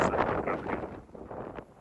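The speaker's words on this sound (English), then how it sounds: "This wind just has no chill." Wind gusts buffet the microphone on Soldier Trail on Mount Lemmon, a loud, rough, low rumble with uneven surges and no voices.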